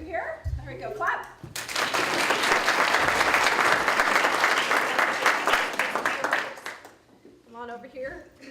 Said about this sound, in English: There we go, clap.